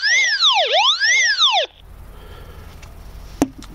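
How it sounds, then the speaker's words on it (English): A loud electronic warbling alarm tone from an Anytone DP-468 DMR handheld radio sweeps up and down repeatedly for under two seconds, then cuts off, leaving quiet background hiss and a brief click. "So there's the alarm function on the Anytone."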